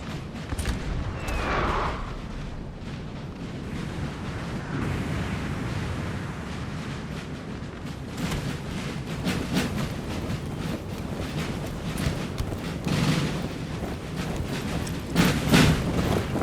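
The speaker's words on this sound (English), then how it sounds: "Oh, he's getting shot. I think by just small arms fire." Small arms gunfire in a Napoleon Total War multiplayer battle: a dense, continuous crackle of musket volleys and booms that rise and fall across a large game battlefield, with no talk.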